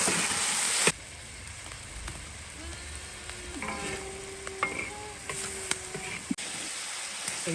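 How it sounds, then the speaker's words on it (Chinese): Tomatoes drop into a hot pan of cooking food after a sharp entry, setting off a close, crackling sizzle with scattered pops and stirring clatter over a steady hiss, no voices present. "再把西红柿下锅"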